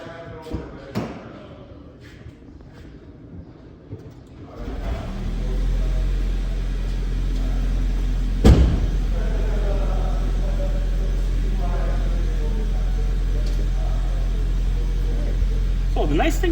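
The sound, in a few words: vehicle being powered up, engine running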